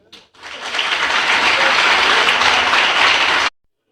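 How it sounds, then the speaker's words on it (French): Applause from an audience at a university open day, swelling quickly into loud, dense clapping that holds steady for about three seconds and then stops abruptly. "Pourquoi pas des applaudissements?"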